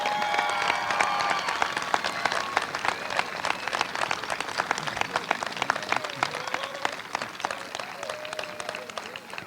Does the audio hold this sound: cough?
no